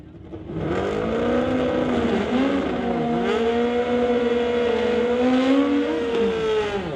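Kawasaki motorcycle at a drag race in the NHRA Summit ET series, its engine loud and close, revving up through rising and falling gear-change sweeps as it accelerates hard.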